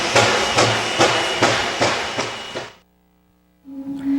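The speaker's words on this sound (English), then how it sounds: "then slowly puffs away through the scenic woodlands." Steam train engine puffing away over a viaduct through woodland, with loud rhythmic chuffs in a steady beat that stop abruptly, then a brief quiet and a low hum.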